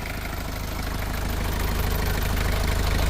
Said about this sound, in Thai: นะมาตอนนี้ติดเครื่องแล้ว